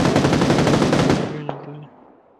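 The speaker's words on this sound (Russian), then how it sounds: "Где-то сзади стрельба." A rapid burst of automatic gunfire in the video game PUBG Lite, loud and dense, cutting off after about a second, then a single sharp shot and a low fading hum.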